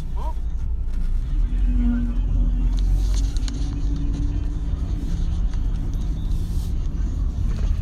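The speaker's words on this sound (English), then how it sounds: "We're gonna drive back down Main Street" Car driving down Main Street, a steady low engine and road rumble close by, with a brief higher tone sweep near the start.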